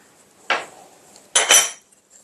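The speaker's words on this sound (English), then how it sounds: "Give it a good stir." A spoon clinks and scrapes against a bowl while a quinoa salad with salt, herbs and blanched fine beans is stirred, two short bursts of close metallic scraping separated by quiet.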